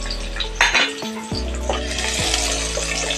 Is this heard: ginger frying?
yes